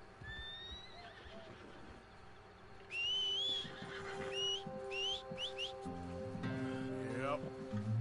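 A horse neighs and whinnies in Red Dead Redemption 2, with whistling calls and hoof clip-clops around a near, loud game soundscape; a voice is present.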